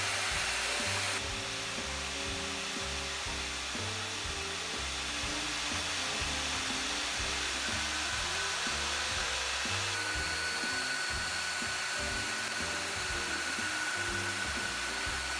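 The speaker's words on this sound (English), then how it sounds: "the slow blade speed of a metal cutting saw does not heat the metal" A metal cutting saw with a slow-turning blade cuts through stainless steel tile, giving a steady, loud broadband whine with a low rumbling churn beneath it, continuous throughout with a slight shift in tone partway through.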